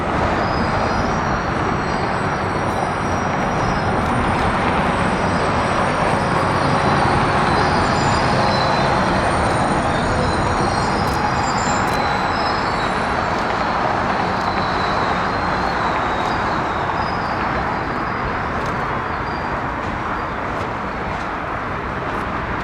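The CPKC Holiday Express train rumbles steadily across a river bridge near Vicksburg at about 10 miles per hour, with continuous wheel roar and faint metallic squeals running throughout.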